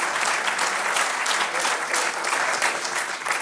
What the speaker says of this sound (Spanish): Merecido aplauso para Javier